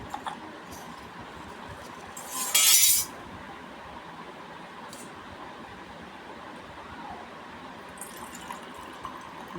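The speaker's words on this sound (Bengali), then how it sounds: "জল দিয়ে দিলাম।" Water pours briefly into a container while household ritual offerings of bael leaves and haritaki are being arranged, a short splashing fill of about a second, close and clear, followed by quiet room ambience and a faint clink.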